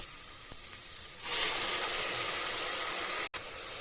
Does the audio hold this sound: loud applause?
no